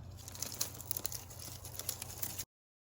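Outer layers peeled off freshly pulled fall garden vegetables, a close, continuous crinkly tearing and crackling with small snaps, faint throughout and ending abruptly.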